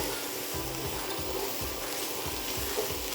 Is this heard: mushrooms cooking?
yes